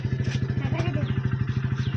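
A nearby motorcycle idles with a steady, evenly spaced thumping pulse throughout, with faint voices murmuring underneath.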